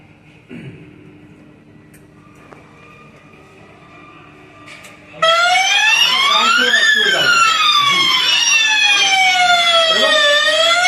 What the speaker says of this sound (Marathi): तुम्हाला काय करायचं की कंटिन्यू वाजू द्या सायरन